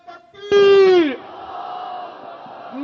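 At a political rally, one voice shouts a loud, drawn-out religious slogan call, then a large crowd's roar and murmur follow at lower volume.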